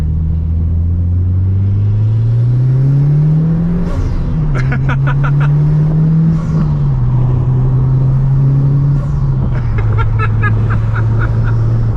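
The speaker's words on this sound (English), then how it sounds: "I think you'll be able to hear it a little bit more if I open the window up." A Mitsubishi Lancer Evolution IX MR engine heard through an open window rumbles steadily, pitch rising and falling as it revs and shifts, with some wind noise and faint higher mechanical whine.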